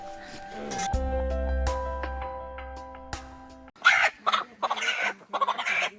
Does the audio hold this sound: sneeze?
no